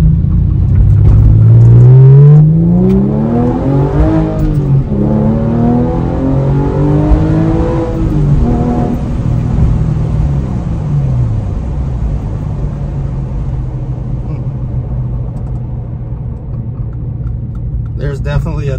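A Porsche 997 fitted with a K&N filter and cold-air intake elbow revs up loudly at close range, then the engine note drops back and settles into a steady idle rumble.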